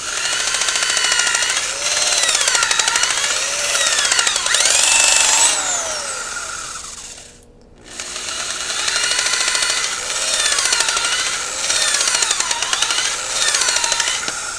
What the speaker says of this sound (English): But you notice the plastic cuts and drills pretty easy